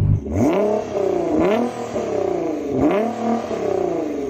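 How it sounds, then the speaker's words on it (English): A tuned 650-horsepower Nissan GT-R engine revs repeatedly, loud and close, rising and falling in three or four sharp throttle blips with a raspy exhaust note. "Let's hear the last car, the 650 horsepower one."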